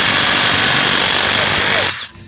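Seesii WH710 impact wrench hammering steadily and loudly up close on rusted lug nuts, a continuous buzzing rattle that cuts off abruptly near the end.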